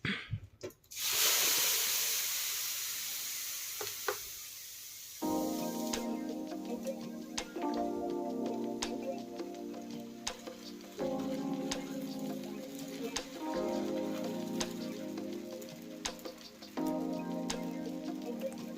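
Dosa batter poured and spread across a hot pan, a steady hiss and sizzle with faint ticking scrapes, followed by repeated rhythmic clinks and soft thuds of a ladle spreading it.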